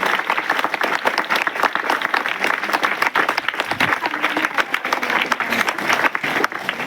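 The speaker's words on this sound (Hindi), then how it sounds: "एक बार पलक के लिए जोरदार ताली होनी चाहिए" A school audience applauds for a student named Palak, with dense, sustained clapping from many hands filling the room loudly and evenly from start to finish.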